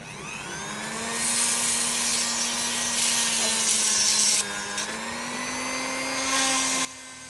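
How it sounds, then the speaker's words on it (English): A high, steady Dremel rotary tool whine with broadband grinding as it enlarges a hole in a Hot Wheels die-cast car, running continuously for several seconds with brief pitch shifts, then cutting off abruptly. "then I will make it larger by using my Dremel"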